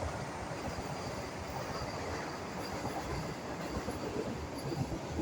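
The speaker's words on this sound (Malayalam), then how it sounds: "ട്രെയിൻ പോകുന്നുണ്ട്." A train passes close by a hotel, its wheels and carriages rumbling loudly and continuously with a steady rolling roar and faint rail squeal, and no talk.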